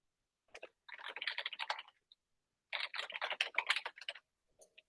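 Quick bursts of typing on a computer keyboard, nearby keys clattering in two runs separated by a short pause, quiet otherwise.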